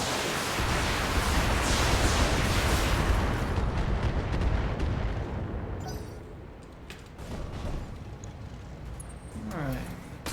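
Heavy weapons fire from a mech force pounding a Fury Command Tank in the BattleTech video game, a loud sustained roar of blasts and rumbling impacts that eases off midway, followed by scattered shots and crackles.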